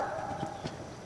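At a riding clinic on a farm in Canton, Georgia, a horse's hooves thud in a soft, muffled rhythm on arena footing, a few dull steps under steady background noise.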